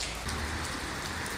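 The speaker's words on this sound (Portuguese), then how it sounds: "Começou uma chuva muito forte." Heavy rain pours during a thunderstorm at home, a dense steady hiss of drops on surfaces with no break, moderately quiet and without voices.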